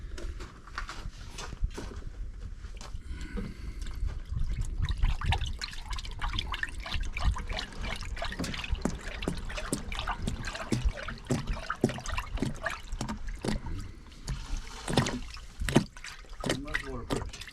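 Water gushes under strong pressure for a long stretch, a loud rushing and splashing flow with gurgling bursts, while people talk nearby.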